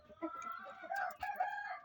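Chickens clucking and a rooster calling nearby, several overlapping bird voices in a short burst.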